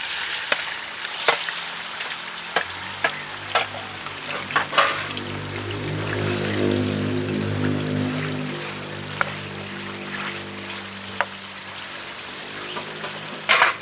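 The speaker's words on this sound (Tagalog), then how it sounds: "isasalang na natin habang hindi pa ganong mainit yung mantika kasi sumasabog-sabog ito eh" A pork mask meets oil in a pan, setting off a steady sizzle with sharp pops and splatters crackling on top, some close and loud, building to a broad fry.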